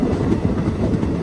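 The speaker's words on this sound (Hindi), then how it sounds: "निकलती है हमारी ट्रेन।" A train pulls out of Anantnag railway station in Kashmir during snowfall, a loud steady rumble of rolling wagons with faint rhythmic clacking of wheels.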